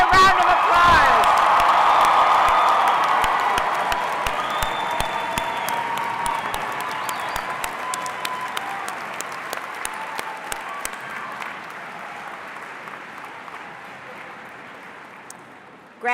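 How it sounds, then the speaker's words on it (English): A commencement crowd gives the Spring 2022 graduates a long ovation, broad clapping and cheering that starts loud and gradually thins and fades over many seconds. "Let's give them another round of applause."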